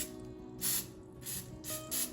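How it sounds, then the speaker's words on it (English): Non-stick cooking spray is sprayed into a small tablespoon in three short, quiet bursts, each a brief airy hiss, separated by low kitchen hum. "you take some non-stick cooking spray and you spray it in the little tablespoon."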